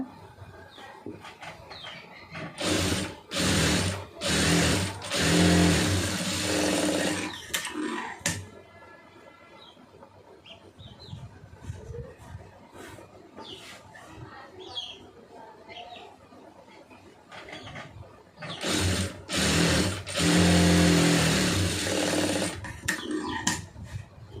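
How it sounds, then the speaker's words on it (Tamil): A sewing machine stitches a puff sleeve for a lined blouse in several loud bursts, separated by quieter pauses with some background sound. "அதை அப்படியே திருப்பி தையல் போட்டுருங்க"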